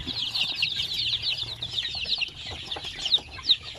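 Newly hatched chicks, about two weeks old, chirp in a steady high-pitched chorus, with many overlapping peeps close by and a few louder cheeps standing out.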